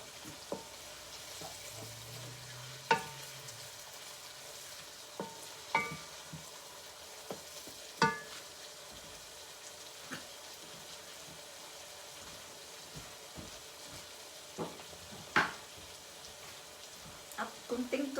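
Dried fish and onion sautéing in a pan, a soft steady sizzle with scattered clinks and stirring scrapes, heard under occasional talk.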